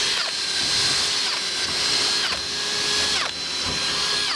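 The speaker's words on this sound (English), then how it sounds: "so Al drills in pilot holes to make it easier for the larger bit" A power drill bores pilot holes through sheet metal on a restored WWI German field kitchen, a steady high whine with repeated bursts as the bit bites in and breaks through, close and loud with no talk.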